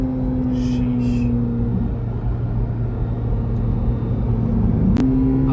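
Chevrolet Corvette C8 Z06 accelerating hard, a loud steady engine rumble with a rising tone that holds throughout, then a sharp click and a shift in pitch near the end, with no talking.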